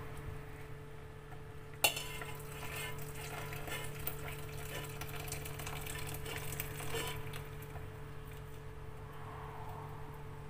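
A spoon stirs tomato soup with meatball broth in a pot, soft scraping and clinking with one sharp knock early on, faint and close over a steady low background hum.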